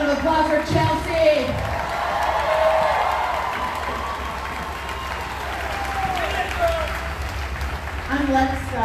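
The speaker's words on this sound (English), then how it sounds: "Another round of applause for Chelsea." A street rally crowd in downtown Salt Lake City applauds and cheers, loud at first and then settling into steady clapping with scattered whoops, voices rising again near the end.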